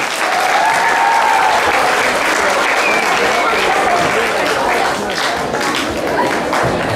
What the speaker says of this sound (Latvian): Aplausi!